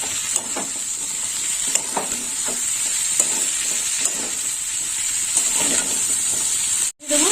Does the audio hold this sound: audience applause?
no